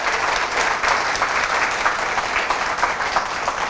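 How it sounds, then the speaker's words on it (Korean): A room full of people at a business presentation breaks into sustained applause, many hands clapping in an even, dense wash that holds steady for the whole stretch without talk. "그것을 조금이나 믿으시면 박수 한번 치도록 할까요?"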